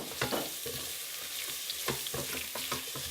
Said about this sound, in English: Add that all in and give it another stir.